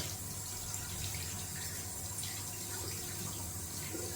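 Tap water runs steadily into a sink while a shaving brush is rinsed clean of leftover lather, a continuous close splashing hiss with no talk.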